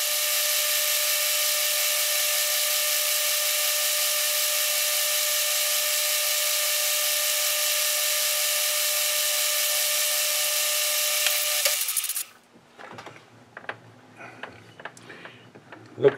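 A milling machine takes a light dry cut on a chuck tapping collar: a steady, unbroken machining whine with a faint tonal hum runs for about twelve seconds, then cuts off abruptly, leaving quiet scattered clicks and taps.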